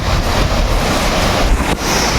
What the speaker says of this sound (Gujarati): સામેની તરફ ખતરનાક ધોધ પડી રહ્યો છે